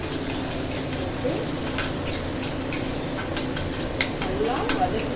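Onions and curry leaves sizzle and crackle in a hot pan while a utensil scrapes and stirs now and then, a steady close-up frying hiss.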